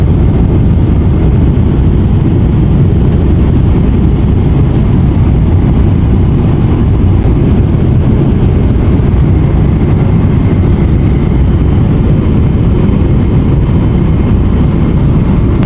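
Constant low engine drone and rushing air noise inside an airplane cabin on a Jeddah to Dhaka flight, loud and unchanging throughout.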